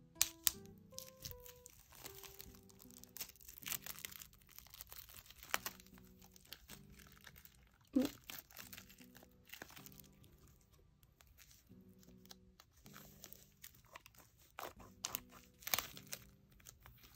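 Tough plastic wrap is torn and crinkled off a K-pop mini album in a series of quiet, close rustling and crackling bursts with brief pauses between them.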